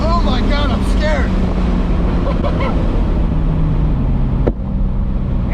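Turbocharged BMW E30 with a bone-stock M20B25 engine making 460 wheel horsepower, roaring loud and close with a steady drone of engine and wind, a sharp exhaust pop near the end, and people talking over it.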